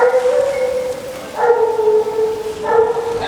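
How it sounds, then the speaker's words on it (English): Dog barks and yelps in a few bursts on a hiking trail on Mount Mimuro, Ome, Japan, moderately close, with a tonal howling quality between them. "Do I have to wait for dogs to pass, or are they going a different way?"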